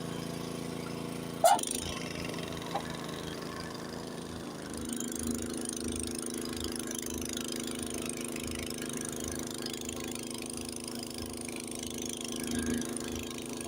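Honda snowblower engine running during a Lake Tahoe snowstorm, a steady mid-pitched idling drone that picks up and grows louder partway through, with a brief clunk near the start.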